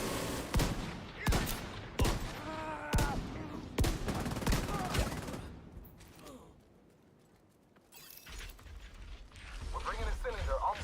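Shotgun blasts in The Division 2 go off as sharp, loud, separate shots with mechanical reload clicks between them, then fade into quieter game ambience before further firing returns.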